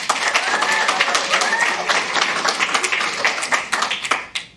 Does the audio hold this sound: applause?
yes